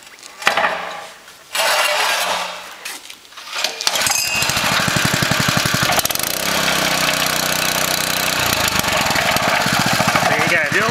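Honda GX140 small engine being started and then running steadily with a loud, rough, buzzing drone after a few seconds of clatter and handling noise.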